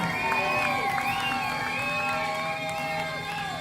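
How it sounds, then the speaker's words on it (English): An audience at a poetry open mic in Asheville cheers, whoops and shouts in a loud, continuous wash of crowd noise with voices rising above it. "scream and shout, spin around, clap your hands, blow a vuvuzela, and make some noise for Steven Energia"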